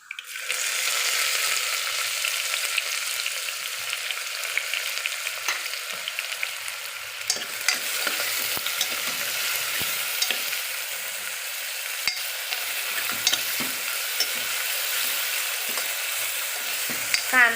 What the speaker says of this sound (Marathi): तडतडती त्यातच मी कांदा टाकून घेते.